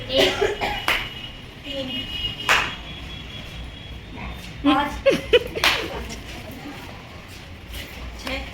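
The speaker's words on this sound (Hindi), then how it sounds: "केवल ताली बजानी है" Teachers at a training session clap hands during a number-counting game, sharp single claps scattered irregularly among talk and light laughter in a room.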